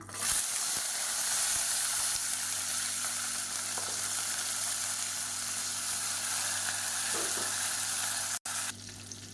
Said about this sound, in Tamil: இப்போ வெங்காயம் லேசாக வதங்கி இருந்துச்சு